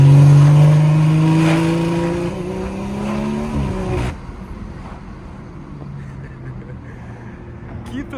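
BMW 340i accelerating hard across a bridge, heard from inside the car: a loud engine note climbs for about four seconds, then cuts off abruptly, leaving quieter road and wind noise with a faint lower drone.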